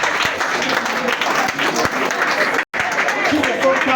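An audience applauding during a prayer and deliverance session, a dense, sustained wash of clapping from a crowd with voices mixed in, briefly cutting out for a moment before continuing.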